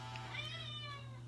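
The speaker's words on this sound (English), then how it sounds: "that's my cat cuckoo clock, which always goes off right at this time." Single short electronic meow from a cat cuckoo clock, a gliding tone heard once over a steady background hum.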